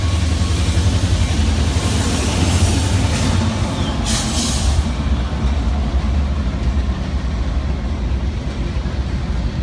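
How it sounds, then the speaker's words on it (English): A train rolls past in a steady, heavy rumble that fills the whole stretch, with a brief higher rattle partway through. "So there's a train going by here."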